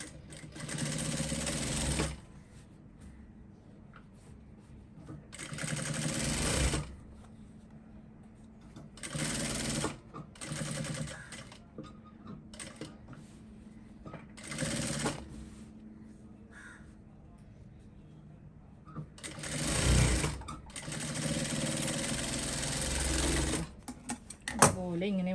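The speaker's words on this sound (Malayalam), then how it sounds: "അപ്പോൾ ഞാനിതിൻ്റെ മീതെ കൂടെ ഒന്ന് തയ്ക്കാൻ പോവാണ് കേട്ടോ." A sewing machine stitching along a kurti neckline in short bursts of fast mechanical whirring separated by pauses. Crows caw in the background and a person talks between runs.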